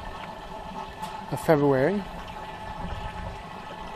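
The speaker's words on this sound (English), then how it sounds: "In the back you can hear the aquaponics water running." Aquaponics system water running as a steady background trickle and hum, with a person speaking briefly over it.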